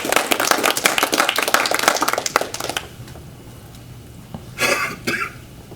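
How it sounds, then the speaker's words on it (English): A crowd claps in dense, rapid applause for a few seconds, then it stops abruptly, leaving room noise and a couple of short scattered bursts. "Let's give her a round of applause."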